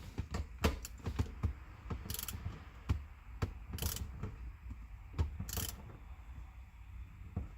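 Torque wrench ratcheting shifter bolts down to 7.5 foot-pounds on a 1994–2004 Ford Mustang GT during a Steeda Tri-Ax short throw shifter install, a close series of sharp mechanical clicks in short irregular bursts.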